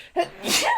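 A single sharp sneeze bursts out close to the microphone, loud and brief, with a quick intake of breath followed by the explosive release.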